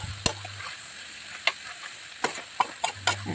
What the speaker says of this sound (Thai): เราก็ผัดให้เขาเข้ากันเรื่อย ๆ เลยนะคะ ผัดจนผักเริ่มสุกนะคะ